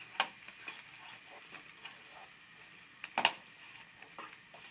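Bengal gram halwa is stirred in a pan, producing faint, soft scraping strokes and a couple of light metallic ticks of a spoon against the pan, quiet and intermittent.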